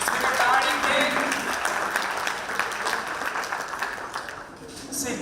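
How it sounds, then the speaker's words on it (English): A room full of people claps for students at a long live session, producing a steady, fairly loud wash of applause that tapers slightly toward the end. "I would like to clap for the students who have been sitting over here"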